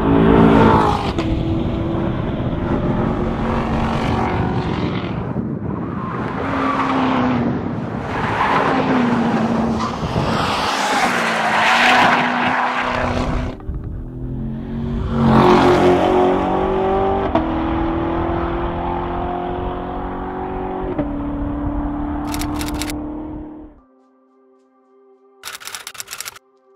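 A 2018 Chevrolet Corvette Grand Sport is driven hard on a road course, its engine surging and falling as it revs up through the gears and backs off, loud and close, fading out near the end before a few faint clicks.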